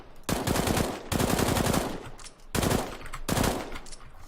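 New FAMAS rifle from Counter-Strike: Global Offensive firing in two loud, fast automatic bursts, each about a second long, separated by brief pauses, with no other sound.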